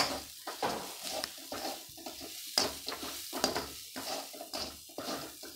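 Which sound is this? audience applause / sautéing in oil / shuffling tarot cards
sautéing in oil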